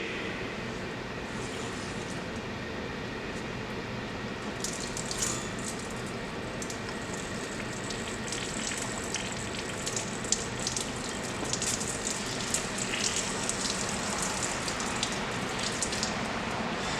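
Water bleeding from the test gauge of a Zurn 375 reduced pressure backflow assembly, a steady hissing, spraying rush that runs on without a break, close and fairly loud, with brighter splashing toward the end and no talk.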